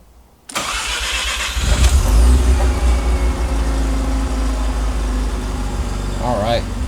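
A Mazda FD RX7 rotary engine with a swapped manual transmission cranks, catches and fires up loud, then settles into a steady, burbling idle close by.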